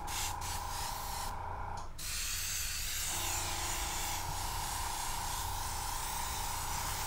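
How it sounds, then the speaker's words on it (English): An airbrush sprays paint lightly over a model figure, giving a steady continuous hiss with a short break partway through, close and even in level. "I'm going to open the airbrush back up and we're going to do a halo over the, just to tie it all together"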